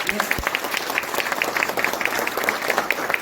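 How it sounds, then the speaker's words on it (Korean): Audience applause at a party youth committee launch ceremony, steady clapping from a crowd in a hall that continues throughout. "우리 전용기 위원장님께 박수 한번 부탁드리겠습니다."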